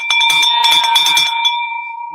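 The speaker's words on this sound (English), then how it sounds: "Get that Nathan bell." A hand bell is rung rapidly in celebration of a closed real estate deal, producing bright clanging strikes that then fade into a lingering metallic ring.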